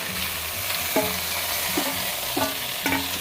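Simmering Hang Lay curry bubbles and sizzles in a pot while a utensil stirs it, with a few soft scraping strokes over the steady cooking noise.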